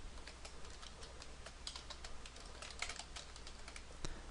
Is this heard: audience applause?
no